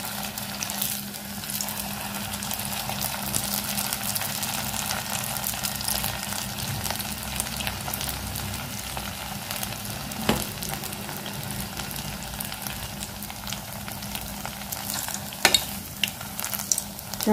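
Aloo paneer kofta balls frying in hot oil in a pan, a steady close sizzle and crackle running throughout with a few sharper pops near the end.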